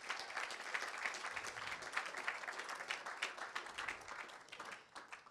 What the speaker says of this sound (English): Give Coach Bill a round of applause.